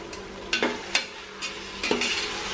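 Mint, coriander and tomatoes frying in a pan for country chicken biryani, a close crackling sizzle broken by several quick scraping stirs of a ladle, with no voices.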